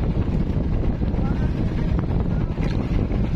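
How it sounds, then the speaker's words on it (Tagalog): Strong wind buffets the microphone out on a boat at sea, a constant loud roar with rushing water beneath, and faint voices mixed into the noise. "Ba't biglang lumakas ang hangin?"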